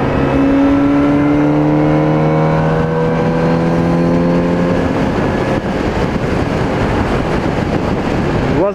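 A Kawasaki Z900RS motorcycle rides along the Rodoanel highway among heavy truck traffic. A loud engine drone holds rising and falling tones over the opening seconds, then blends into broad, continuous road and wind roar.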